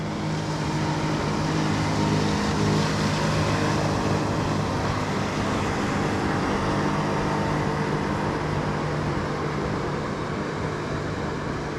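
Motorboats run on the Dniester river, making a steady, dense engine drone with a wash of water noise throughout, fairly loud and unbroken, with no voices.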